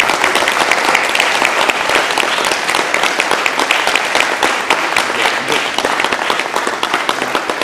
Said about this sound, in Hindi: इन क्षणों को आपकी तालियों से गुंजायमान करिए।